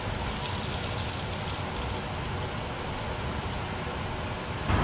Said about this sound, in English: It's raining and everything